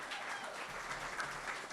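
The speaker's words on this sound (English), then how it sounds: "We can give them a round of applause." Audience applause at a university event welcoming a new women's basketball head coach: a brief, steady wash of clapping at moderate distance, with no voices over it.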